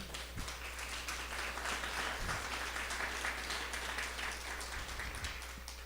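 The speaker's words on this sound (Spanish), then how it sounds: "Dale un fuerte aplauso a nuestro Dios" A church congregation gives a strong round of applause to God during a service, steady dense clapping over a low constant hum, with a few thumps scattered through.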